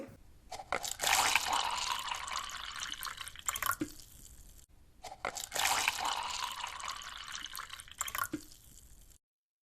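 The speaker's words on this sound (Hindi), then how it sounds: "अब हम गरम गरम दूध डालेंगे। थोड़ा सा हम ऊपर करके डालेंगे।" Hot milk poured from a raised height into two cups of coffee, making two long splashing, gurgling pours of liquid, each a few seconds long and close by, with no talk over them.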